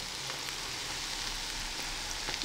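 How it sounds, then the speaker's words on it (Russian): Apple pancakes fry in a pan on their second side, giving a steady, close, moderately faint sizzle with a few pops and no voices. "Вот, жарим вторую сторону."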